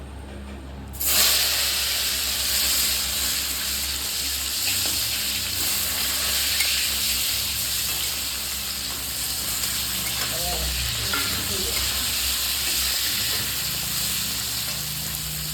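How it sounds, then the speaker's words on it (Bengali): Raw green banana pieces fry in hot oil tempered with cumin and bay leaf, a loud continuous close sizzle and hiss that surges at the start and holds steadily throughout, with some background rumble. "এবার কাঁচা কলা ভেজে নেব"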